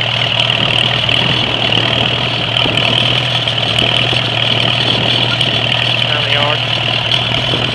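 A 1945 Farmall A tractor engine idles steadily and still cold, with a low, slightly rough running note held throughout and someone speaking briefly over it.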